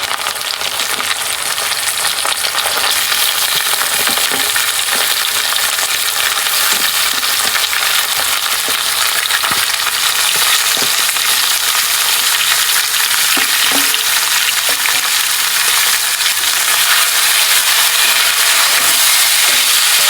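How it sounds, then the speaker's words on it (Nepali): Onions frying in mustard oil for a chicken pulao, a steady dense sizzle that runs close and loud for the whole stretch, broken by occasional soft stirring clicks, with no talk over it. "अब प्याज मजाले फ्राई गर्नुपर्छ, गोल्डन ब्राउन हुनेसम्म"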